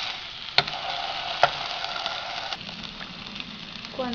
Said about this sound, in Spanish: Vamos a hacer es sellarlas, dorarlas por todo lado para que se cocinen con todos los jugos dentro